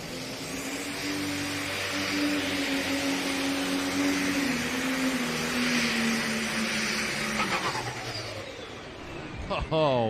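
A pulling tractor roars at full throttle through a Grand National tractor pull run, a loud sustained engine drone with shifting pitch that cuts out near the end, with an announcer talking over it.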